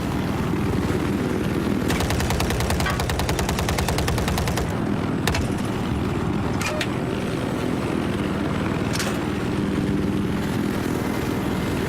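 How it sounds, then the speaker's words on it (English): Scout helicopter in a video game, its rotor chopping steadily and loudly while bursts of rapid gunfire cut in and out over the whirring drone. "the scout helicopter is also one of my favorites, just because it's so agile"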